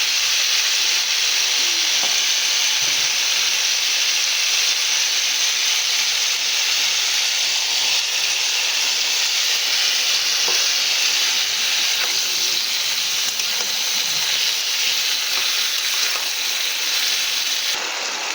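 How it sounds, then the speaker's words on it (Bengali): Cumin, ginger and garlic paste fries in a pan for a yardlong bean and fish head chorchori, making a steady, loud hissing sizzle with light stirring scrapes and no voices. "এটা পেস্ট আমি ভালো করে কষে নেব, যেন আদা রসুনের কাঁচা ভাবটা যেন চলে যায়"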